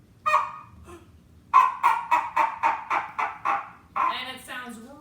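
Cup-and-string noisemaker pulled with a damp paper towel makes a goofy squawking, honking sound: one squawk, then a regular series of about nine rhythmic honks, ending in a longer warbling squawk, close and loud.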